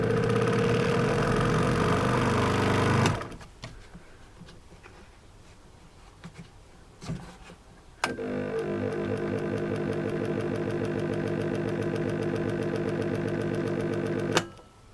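An Einhell TC-SS 405E scroll saw runs with a steady, fast mechanical chatter for about three seconds, stops, then restarts around the eighth second and hums evenly until shutting off near the end, with quiet handling noises between runs.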